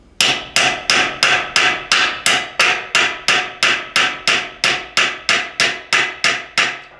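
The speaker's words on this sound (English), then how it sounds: "you're just going to hammer the entire assembly out" A valve's rotor assembly is driven out of a Wessex Z valve, a very tight fit, with a hammer. About twenty loud, close, evenly spaced metallic blows ring out in a steady rhythm with no talking.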